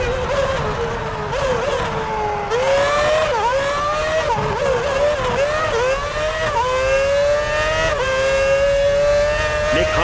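Ferrari Formula One car driven by Felipe Massa on a fast lap at Interlagos in a PS3 racing game, a loud continuous high engine whine rising and falling with repeated gear shifts and pitch sweeps throughout.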